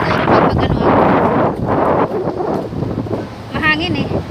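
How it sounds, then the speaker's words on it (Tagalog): Strong wind gusts buffet the microphone outdoors in Maliya, Kuwait, a loud continuous rushing roar that swells and dips, with a voice speaking briefly near the end. "Mahangin sa labas."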